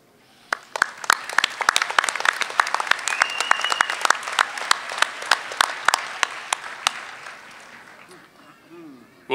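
Applause at a university commencement ceremony, building from a few claps into steady, fairly loud clapping from the crowd with some distinct close claps, then tapering off near the end.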